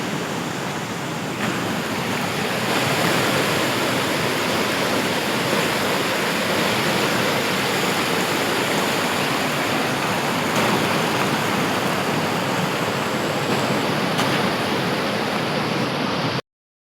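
Water rushes over a dam in a continuous, loud, broadband roar that holds steady from start to finish with no voices.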